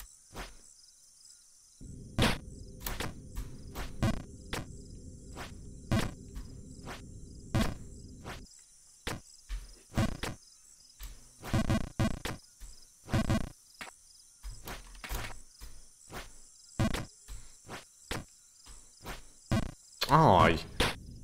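Cricket chirping runs as a constant high trill through the game ambience of Jump King. Sharp clicks and soft thumps from in-game jumps and landings sound over it, and a brief burst of sound comes near the end.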